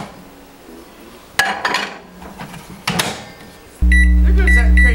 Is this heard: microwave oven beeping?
yes